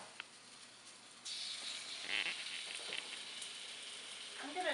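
A trimmed cut of meat hits a very hot skillet over an open-flame gas stove and starts frying loudly after a quiet moment, a steady close sizzle that crackles on to the end.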